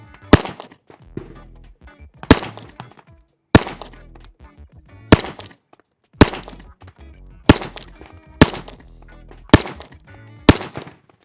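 SIG P211 GTO pistol fired in a slow, steady string of eight sharp, loud shots spaced about a second and a half apart, each with a brief ringing decay and no talking between.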